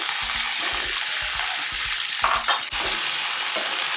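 Potato pieces tipped into a hot pan of oil for a cauliflower and potato curry, crackling and sizzling steadily while a spoon scrapes and stirs in repeated rhythmic strokes, loud and close.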